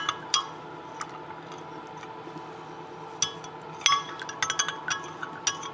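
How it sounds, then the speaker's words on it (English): A utensil stirs natural paper dye liquid in a glass, giving light clinks and taps against the glass, scattered and close over a soft background, with no talk. "I'm just gonna stir this up."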